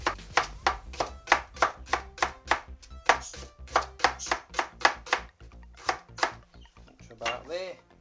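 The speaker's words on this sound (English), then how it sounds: "Let's just chop this up quite thin, like that" A kitchen knife slices food thinly on a chopping board in a steady run of crisp, evenly spaced thuds, close and clear, while a person talks alongside.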